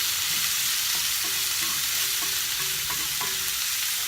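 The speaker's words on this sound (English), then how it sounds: "You want to saute it until it's golden brown" Onion sautéing in a hot pan gives off a steady, close sizzling hiss with a few faint light clinks, and no one speaks.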